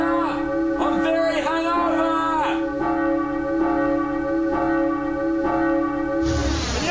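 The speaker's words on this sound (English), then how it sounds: "I wake up with their f***ing bell ringing 28 times." A church bell rings loudly and repeatedly at a steady pace in the early morning, and its strokes overlap in a sustained metallic wash over a dense background. A sharp crash of sound cuts in at the end.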